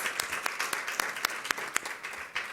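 Audience members at a school district governing board meeting clap for students, with distinct individual claps popping out over a brisk, moderately loud round of applause.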